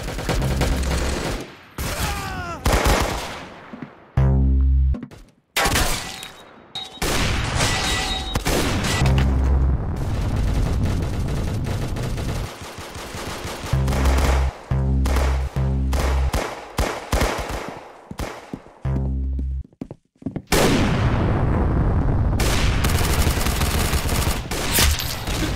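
Roblox shooter Arsenal delivers loud bursts of game gunfire, quick automatic volleys and single booming shots separated by short silences, fairly close and dominating throughout.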